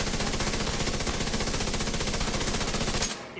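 Rapid automatic gunfire in a video game, a steady fast stream of loud shots lasting about three seconds before cutting off, with no talking over it.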